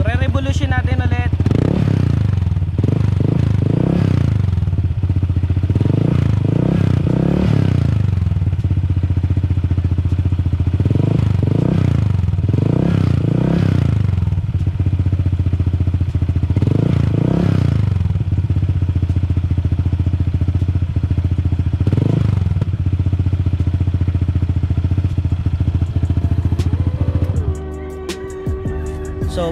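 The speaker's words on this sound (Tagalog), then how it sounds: "So mabubuo sa inyo yung tunog ng Villain muffler kapag walang silencer." A Honda PCX scooter with a Villain muffler and no silencer idles with a loud, deep, steady rumble. Several rounds of sharp revving rise and fall over it, recorded close up. The sound cuts off near the end.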